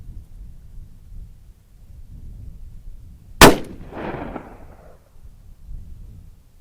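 A .357 Magnum revolver fires a single Remington 158-grain semi-jacketed hollow point round into ballistic gel. The shot is one loud, sharp crack, and its echo rolls away outdoors over a quiet low rumble before and after.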